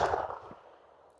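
A Beretta Cheetah .380 ACP firing 90 gr Hornady Critical Defense; one close report cut at its start, leaving a dull booming tail that fades over about a second.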